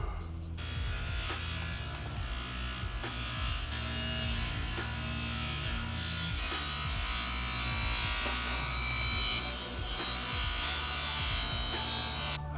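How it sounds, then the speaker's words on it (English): Bench buffer with a fine wheel polishing the sides of an aluminum dirt bike frame, a quiet continuous motor whine with shifting pitch sweeps as the metal is pressed against the wheel. "Why don't we break out the bench buffer, throw the fine wheel on the sides of the frame here"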